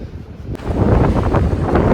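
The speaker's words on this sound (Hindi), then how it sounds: "यहाँ इतनी तेज़ हवा चल रही है कि पता तो बोला भी नहीं जा रहा है" Strong outdoor wind gusts buffet the microphone, a loud continuous low rumble that swells and roars throughout, with no voices.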